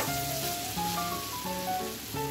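Fried potatoes dropped into a hot pan sizzle with a steady, close crackling hiss, with faint tonal background sounds layered over the frying.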